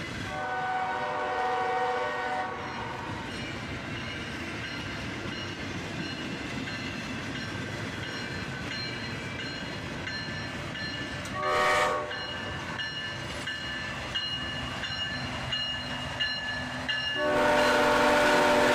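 A freight train led by two GE diesel locomotives rolls past at dawn, its horn blaring in long blasts over a steady rumble and clatter of wagons, loud and close, with no talking.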